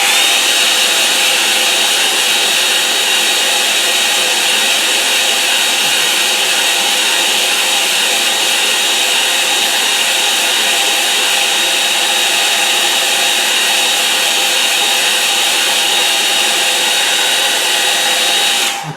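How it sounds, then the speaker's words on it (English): A hairdryer drying a watercolour seascape painting blows with a loud, steady whoosh that holds without a break for nearly the whole stretch before cutting off at the very end. "hairdryer?"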